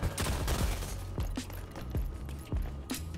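An SMG fires in short, repeated bursts during Rogue Company gameplay: sharp, punchy cracks landing in quick clusters, loud and up close with a low thump beneath each shot.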